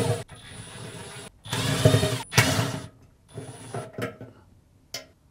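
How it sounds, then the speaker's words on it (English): Hand ratchet clicking in short bursts while removing screws from the bearing retainer of a Fisher & Paykel dryer during a drum bearing replacement; close, moderately loud mechanical ticking with pauses between turns. "remove the 5 screws securing the bearing retainer"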